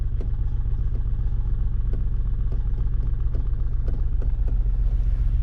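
A car engine hums steadily at low pitch as the vehicle starts to roll forward in first gear once the clutch is released, a continuous near rumble with faint clatter and no voices.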